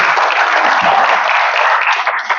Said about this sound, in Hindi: बच्चे के लिए ताली बजाओ, अच्छा बच्चा है